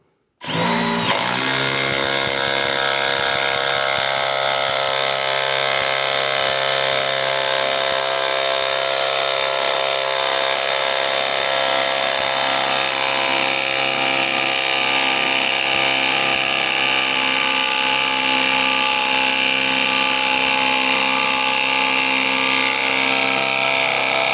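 Milwaukee Gen3 M12 impact driver sinking a 3/8 by 10-inch lag screw, with a steady loud mechanical hammering whine that starts abruptly and runs nonstop for over twenty seconds, close and alone.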